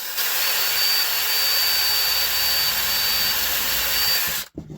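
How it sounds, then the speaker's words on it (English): An electric drill spins a toothpick inside a pivot hole of an 1860-1870 Black Forest count-wheel clock movement, a loud, steady whine that holds evenly for over four seconds before cutting off abruptly. "You put the toothpick in the pivot hole, turn on the drill."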